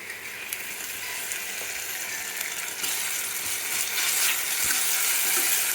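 Ginger garlic paste sizzles and fries in a pan with browned onions, a steady close hiss that swells slightly louder toward the end, with faint clinks and no voices.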